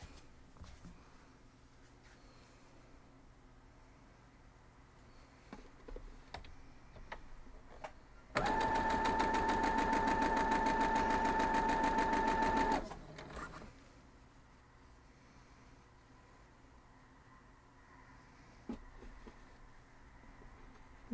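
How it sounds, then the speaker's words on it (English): A sewing machine stitching quilt fabric rectangles together runs in one steady burst of about four seconds with a high mechanical whine, preceded and followed by quiet handling noises in a still room. "And again, we're just going to sew them together."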